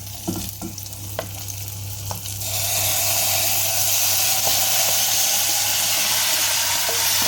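Tomatoes hit a hot ratatouille pan with a sudden steady sizzle that swells after a few seconds of clattering and stirring, then holds as a loud continuous frying hiss close by.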